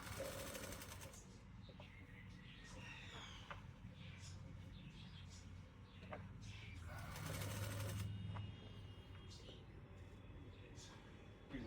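A sewing machine stitches tucks on a blouse, heard in quiet bursts of rapid mechanical whirring with pauses and handling noises in between, while someone talks softly throughout.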